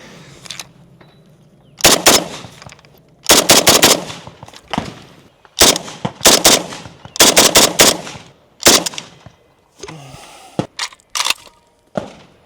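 A machine gun fires in long, loud bursts of rapid sharp cracks separated by brief pauses, close and outdoors at a range, with a few scattered single shots near the end.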